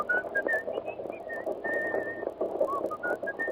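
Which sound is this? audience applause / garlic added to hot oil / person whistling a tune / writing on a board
person whistling a tune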